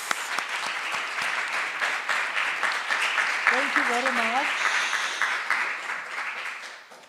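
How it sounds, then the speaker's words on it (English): Audience applause closes an academic panel on evidence, data and postcoloniality, a full, steady clapping that fades out toward the end while a speaker offers thanks over it. "So a round of applause."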